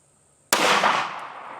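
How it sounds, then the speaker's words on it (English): A Ruger MAX 9 pistol fires a single sharp, loud shot that cracks suddenly out of near silence, followed by a long fading wash of echo. "Round fired."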